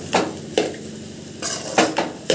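Maggi noodles are stirred and turned in a pan, with four or five sharp, close scrapes and knocks of a utensil against the metal over a faint sizzle.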